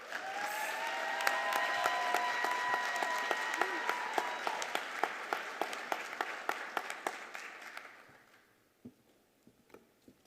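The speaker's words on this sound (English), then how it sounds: "Can we give her one more round of applause for those remarks?" A graduation ceremony audience applauds at length after a speaker's remarks, a dense wash of clapping that thins into a few scattered, individual claps and fades out near the end.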